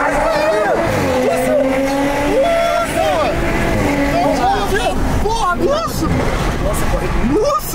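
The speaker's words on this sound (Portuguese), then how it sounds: "eu vou acelerar aqui de novo, rapaziada." A powerful car accelerates hard, its engine note climbing in repeated rising sweeps through the gears, loud and close throughout, with people talking over the roar inside the cabin.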